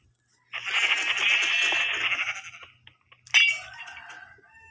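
A video game sheep in Minecraft Skyblock bleats twice, a long wavering call followed by a shorter one, clear and close against quiet.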